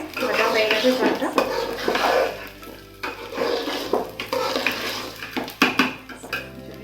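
Rice for pulao frying and being stirred in a metal pan, with repeated scraping and clanking of a spoon against the pan over a soft sizzle, close and fairly loud.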